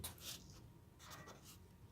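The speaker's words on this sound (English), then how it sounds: "let me write down this" Pen or pencil writing by hand on paper while working a math problem, a steady run of soft scratching strokes over about two seconds with no talking.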